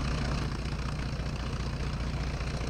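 Three aircraft engines on a Kerbal Space Program plane run with a steady low idling rumble and hum, a dense continuous drone with no voices.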